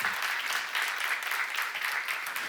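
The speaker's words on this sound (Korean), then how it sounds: "박수하세요." A church congregation claps steadily together during a Korean worship seminar, with dense, continuous applause holding at an even level throughout.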